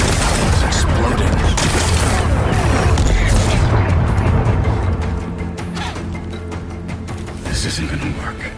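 Rock-blasting explosions in the video game Horizon Forbidden West roar and rumble loudly and continuously, a dense barrage of booms fading into lingering debris noise.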